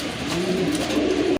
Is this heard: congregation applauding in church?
no